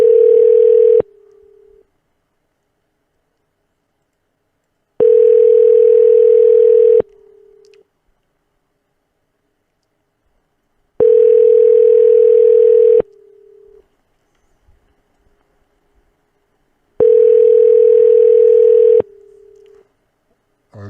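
An unanswered outgoing call rings back as a loud, steady electronic tone, four long bursts of about two seconds each separated by roughly four seconds of silence.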